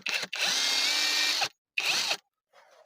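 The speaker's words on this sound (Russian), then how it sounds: "Гайковерт нормально все открутил." An impact wrench loosens nuts on a VAZ-2106 car, giving a long whirring burst and then a shorter second burst, followed by a faint brief rattle at close range.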